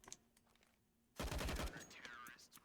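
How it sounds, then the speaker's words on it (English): A hand cannon fires in a competitive first-person shooter match, a burst of loud, dense gunfire erupting after a quiet moment and ringing out for about half a second. "That's unless Berg can get anything done with that hand cannon."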